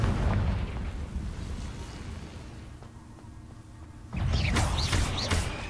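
Fiery Confringo blasting curse from Hogwarts Legacy bursting into loud booming explosions, a heavy rumbling blast at the start fading into a quieter stretch, then a second loud burst with crackling debris near the end.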